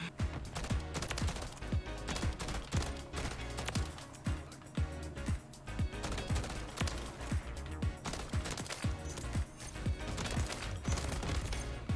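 Rapid bursts of automatic gunfire from Call of Duty Modern Warfare III, a dense, continuous stream of sharp shots with backing game music and effects, loud and steady throughout with no speech.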